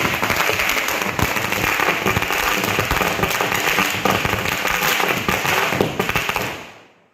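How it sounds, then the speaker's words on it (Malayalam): A string of firecrackers bursts in a loud, rapid, continuous crackle close by during Vishu celebrations in Kerala, popping for several seconds before quickly fading away. "പടക്കം പൊട്ടി"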